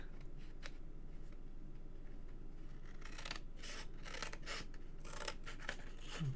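Scissors cut through card for a handmade gift box, a series of close, crisp snipping strokes that grow quicker and denser partway through, over a low steady background hum.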